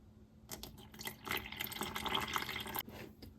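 About 25 grams of water poured into a sourdough starter jar with flour, a short close trickle and splash lasting a few seconds before cutting off, fairly quiet with no talk.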